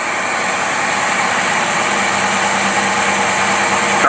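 An engine fitted with a Rochester Quadrajet carburetor idles, giving a loud, steady, even drone that holds without change from start to finish, close by and without talking.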